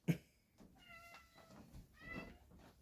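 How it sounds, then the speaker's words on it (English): A house cat meowing nearby, several soft drawn-out meows in a row with short gaps, fairly faint against a quiet indoor background. "That's my cat."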